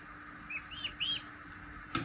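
Newly hatching chicks on a farm chirping in an incubator, three short faint peeping calls close together followed by a sharp brief click, with a low steady hum underneath.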